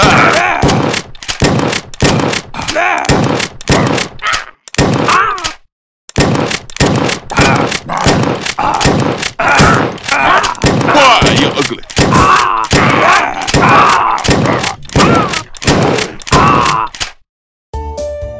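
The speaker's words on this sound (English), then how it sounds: "Double barrel. Shotgun." Repeated heavy shotgun blasts from a double-barrel shotgun in a zombie video game, firing in a steady, rapid rhythm of loud thumping shots with brief pauses.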